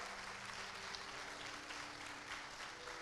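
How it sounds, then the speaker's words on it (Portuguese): Church congregation applauding at a preaching service, a continuous wash of clapping heard faintly and from a distance, with a low hum beneath. "Aplauda Jesus bem forte."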